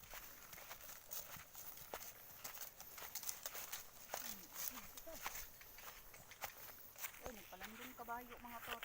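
A horse walks along on a long ride, its hooves giving soft, irregular clip-clop steps close by while voices talk over and around them.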